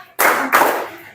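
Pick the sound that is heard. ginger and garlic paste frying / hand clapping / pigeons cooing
hand clapping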